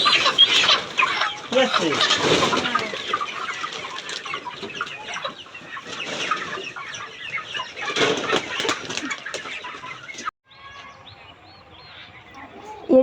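Farm chickens cluck and squawk nearby, with some wing flapping in bursts, while a person speaks briefly; the flock quiets toward the end.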